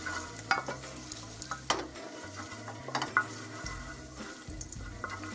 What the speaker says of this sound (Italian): L'olio caldo, metto subito l'aglio.